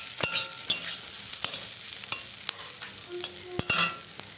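Flowers fry with chilli in a pan, a quiet hissing sizzle broken by sharp scraping clicks of a spatula stirring against the metal at an irregular pace.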